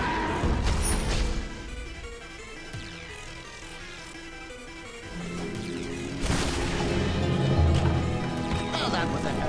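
A heavy sniper rifle fires with big recoil in a shooter video game, a couple of booming blasts and crashes among busy game noise, with someone talking over it.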